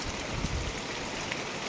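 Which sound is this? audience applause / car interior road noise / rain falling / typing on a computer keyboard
rain falling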